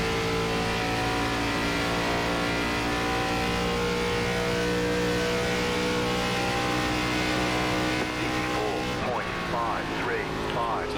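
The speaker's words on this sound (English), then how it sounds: "Slamming on the throttle to get some rotation there on exit of 4" An ARCA Series race car engine in iRacing at Indianapolis Motor Speedway screams at full throttle on a corner exit, a steady loud high-pitched drone throughout, with someone talking over it.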